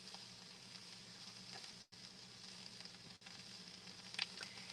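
Onions sizzle quietly in a pan as they are kept moving to stay golden, with a soft continuous crackle and two brief breaks, faint and without talk.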